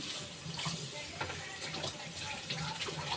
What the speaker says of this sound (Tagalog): naghuhugas pa rin tayo na hugasin pinggan